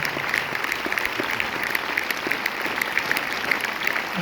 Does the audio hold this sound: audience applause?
yes